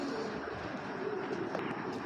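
A racing pigeon coos faintly and intermittently against a constant, fairly loud background hum.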